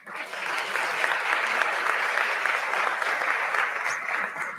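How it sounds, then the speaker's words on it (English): A room full of people clapping for a speaker at a panel event on Atlanta's wealth gap, moderately loud and even from start to finish with no talking. "Let's give another round of applause for Latresa"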